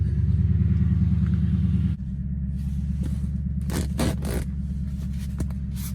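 Folding down a GFC pop-up camper on a Toyota Tundra truck: a steady mechanical hum with a sharp drop, then several bright scraping and rustling bursts of fabric and panels near the microphone.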